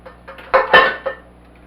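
Rice, broccoli, mushrooms and cheddar tumble into a pan with a few soft clinks and scrapes of metal and dishware, a couple of brief, close knocks, with no talking.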